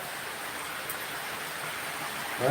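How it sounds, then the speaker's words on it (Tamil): Heavy rain falls steadily beside a banana grove, a constant loud hiss of drops with no break, ending in a brief low rumble. "வலுவான மழை பெய்யுது"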